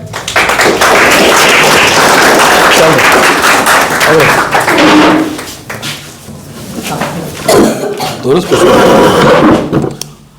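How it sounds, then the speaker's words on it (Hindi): A class of tenth-grade students claps together in a loud, dense burst that fades around the middle, then returns as scattered claps and knocks with voices mixed in. "ताली बजाओ।"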